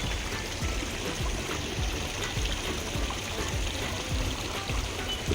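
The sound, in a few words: water flowing from decorative garden fountains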